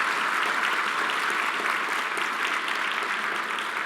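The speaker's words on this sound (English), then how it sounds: "we'll give you one more awesome round of applause because you did such a great job" A conference audience claps in a dense, steady round of applause, loud and sustained without a break.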